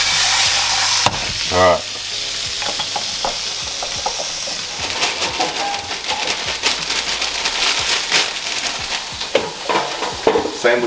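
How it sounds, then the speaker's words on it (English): A steak hits a hot stovetop pan with a sudden loud sizzle, then steady crackling and popping fat continues. A brief spoken word comes early on. "The stove is on, so I'll chuck the steak in"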